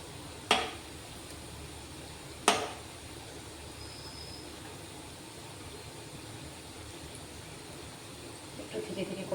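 Gaja sweets frying in oil in a pan are turned over with two sharp utensil clacks against the pan, spaced a couple of seconds apart, over a steady low sizzle, with a faint scrape near the end.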